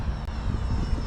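An E-flite Viper 70mm electric ducted-fan RC jet flies past, a steady rushing whine with a thin high tone, heard alone for about a second.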